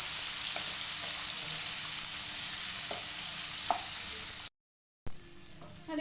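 Chopped onion and green chillies frying in a pan, a bright continuous sizzle with a few soft knocks, cut by a short stretch of dead silence before frying resumes more quietly.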